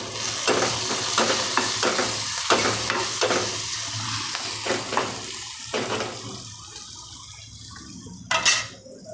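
Green chillies and raw mango fry with turmeric in a pan over low gas, giving a steady soft sizzle broken by repeated scraping stirs, close and moderately loud, with a brief louder clatter near the end.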